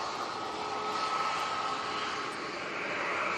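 A Ryanair airliner roars steadily at a distance as it rotates on takeoff, a broad, even engine rush with a faint high whine that holds throughout.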